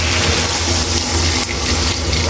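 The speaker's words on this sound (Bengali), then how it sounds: "এর মধ্যে পানি অ্যাড করে দেব।" Boiled water pours into a pot of taro root and rohu fish curry, a steady, loud gushing rush that runs unbroken for about two seconds over a low hum.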